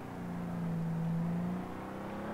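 In the Far Cry 3 video game, a vehicle's engine drones steadily with a rising whir, a continuous motor hum as it runs someone over, with no speech.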